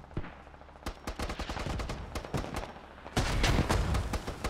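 Rapid vehicle cannon fire from an armored LAV-6 in the military shooter Squad, a dense run of sharp, loud shots in irregular bursts that build into heavier sustained firing near the end.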